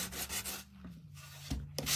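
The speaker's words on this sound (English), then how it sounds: "but that's what we're sanding." A wooden lamb craft kit piece is sanded by hand in a series of short scraping strokes with brief pauses between them, close and moderately loud, with no talk.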